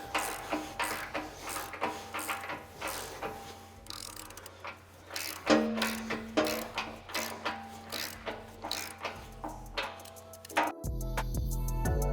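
A hand ratchet cranks repeatedly while a rear bumper swing-out is installed on a Toyota 4Runner, giving steady clicking strokes in quick bursts with metallic workshop clatter, ending in a louder mechanical grind.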